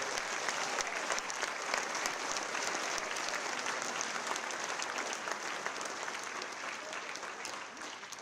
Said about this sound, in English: One more round of applause for our veterans on Veterans Day.